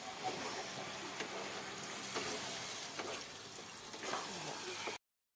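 Deshi (country) chicken pieces sauté with tomato, turmeric and salt, giving a quiet, continuous sizzle with occasional stirring scrapes before the sound cuts off abruptly.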